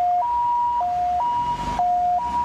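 An ambulance siren arriving at a car crash scene wails in a loud, steady two-tone hi-lo pattern, close and continuous without talk.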